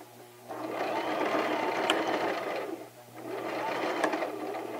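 A sewing machine stitches apron fabric in two close, steady motorized runs, a whirring hum broken by a short pause as it reverses for a back stitch.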